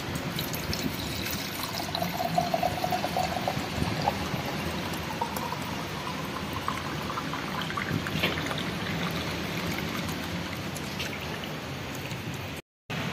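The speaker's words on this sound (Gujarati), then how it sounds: "તો પાણીનો કળછો ભરી લઈએ." Water pours continuously into a jug being filled, a steady close gush and splash that runs without pause for about twelve seconds before a brief break.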